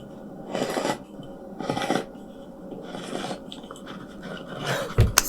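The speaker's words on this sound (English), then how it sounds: "It's a can opener." A can opener, played as a mystery sound in a guessing game, gives a series of rhythmic rasping, grinding bursts about once a second, with a few sharper clicks near the end.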